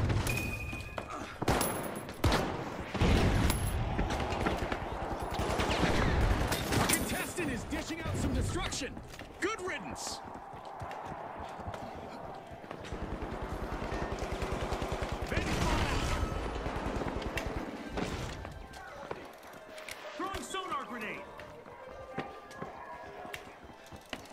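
SH1900 shotgun blasts in THE FINALS video game, heavy overlapping shots and clattering action over a continuous chaotic battle din, with a voice talking underneath.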